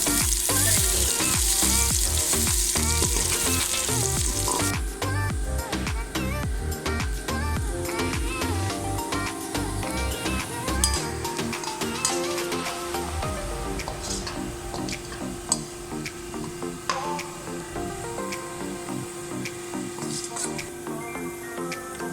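Onions frying in spiced oil for a Pakistani matar pulao, with a loud continuous close sizzle and crackle throughout, no talking.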